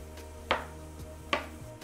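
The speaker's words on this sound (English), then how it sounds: "So I'm gonna keep chopping these up, and then I'm gonna add them to the pan." A knife chops onion on a cutting board while a stir fry is being prepared, giving two sharp, close chops spaced about a second apart over a quiet kitchen background.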